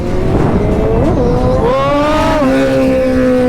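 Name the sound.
motorcycle revving and backfiring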